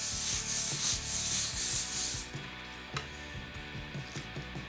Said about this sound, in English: So once we brush this in, we'll apply a second coat.